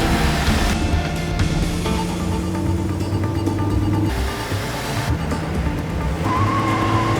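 A car speeds along in a chase, its engine a loud continuous roar with shifting pitch and rushing road noise, close and sustained with no talk.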